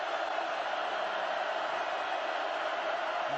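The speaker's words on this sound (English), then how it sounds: "Crowd now really involved" Steady, dense roar of a football stadium crowd at Oregon during a Purdue game, a broad continuous wash of voices holding at an even level for a few seconds with no distinct peaks.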